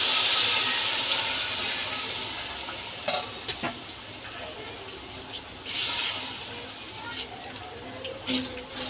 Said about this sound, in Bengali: মা এখন পরিমাণ মতো জল দিয়ে দিবে যেন একদম ঝরঝরে হয় রান্নার পরে